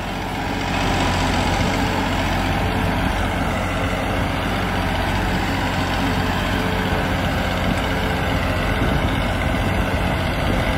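Massey Ferguson 9500 tractor pulling a 3-bottom MB reversible plough through completely dry, hard soil, its heavy diesel engine droning steadily and loudly throughout with a constant low rumble and no talk.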